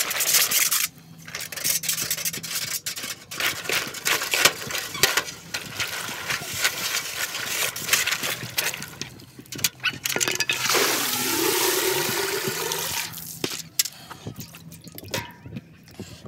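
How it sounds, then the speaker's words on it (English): Raw peanuts swirled and spun in a basin of rinse water, a close wet sloshing and rattling of nuts against the container, irregular and continuous with a brief louder swish near the end. "Okay, here's the second rinsing."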